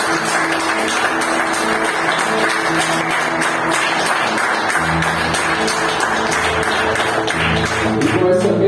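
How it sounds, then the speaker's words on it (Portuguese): A church congregation claps together in sustained, dense applause, steady and full throughout, with a voice speaking over it and some musical tones beneath. "uma belíssima salva de palmas a Ti"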